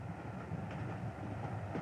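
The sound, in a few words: passenger train travelling, inside a carriage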